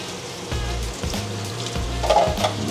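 Water from an aquarium water change is poured out, giving a steady, close rushing splash with a few low thumps and a brief louder surge near the end.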